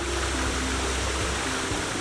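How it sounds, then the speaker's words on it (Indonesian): Water from the Curug Indah waterfall pours and splashes steadily, a dense, continuous rushing hiss with no pauses. "Suara gemercik air yang jatuh menambah kesan alami."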